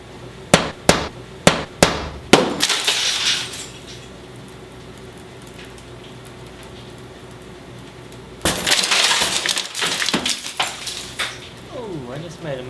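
Auto window safety glass is struck several times with sharp, loud hammer cracks, then shatters in a prolonged burst of crunching, tinkling fragments that keep clinking and settling.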